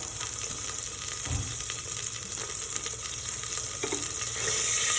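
Sunflower or coconut oil heats in a 5-litre pressure cooker while preparing Kerala-style chicken biryani, giving a steady, close, continuous sizzle with no talking.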